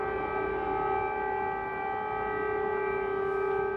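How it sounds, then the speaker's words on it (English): Civil defense air raid sirens wail across Kyiv, Ukraine, in winter during the war, one steady, loud, held tone that carries on unbroken. "These are the sirens that have just started going off."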